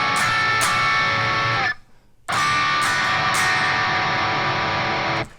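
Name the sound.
electric guitar chord progression in drop tuning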